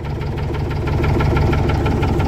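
A boxer engine idles low and steady right after starting, a loud, close, continuous rumble with a faint, rapid pulsing beat and light mechanical chatter over it.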